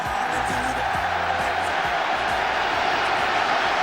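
Football supporters at a 1970s West Ham versus Arsenal match, a dense roaring crowd noise held steady and loud, with a voice talking over it.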